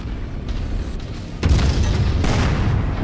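Long Tom artillery firing in Mechwarrior 5, a deep heavy boom that erupts midway through low rumbling battle noise, followed by a sustained roaring tail.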